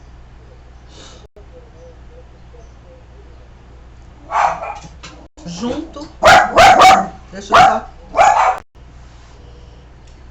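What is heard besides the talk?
dogs barking inside a house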